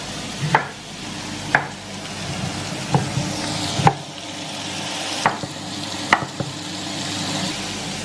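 Vegetables sizzle steadily in a frying pan, with sharp scraping taps from stirring every second or so, close by and without any talking.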